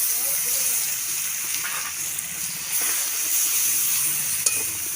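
Ground mustard paste frying in a pan while being sautéed, giving a continuous soft hiss and sizzle at steady level with occasional faint stirring touches, no talk.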